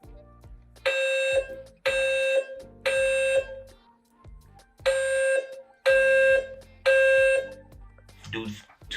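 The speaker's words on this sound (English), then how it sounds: "The alarms will continuously go off day and night." An apartment building fire alarm blares in a series of loud, evenly spaced electronic tones, six long blasts broken by short gaps, with voice announcements running underneath.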